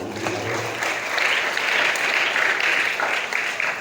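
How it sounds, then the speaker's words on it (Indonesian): An audience at an Islamic boarding school parenting event in Cirebon applauds a mother and daughter, a steady, dense clapping that holds for several seconds at even loudness with no voices over it. "Tepuk tangan buat ibu dan anak"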